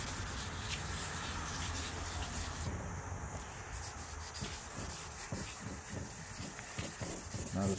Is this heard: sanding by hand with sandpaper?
yes